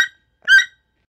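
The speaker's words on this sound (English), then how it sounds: "Toucan." A short, high croaking call from a bird, two brief bursts: one at the very start and another a moment later, alone in silence.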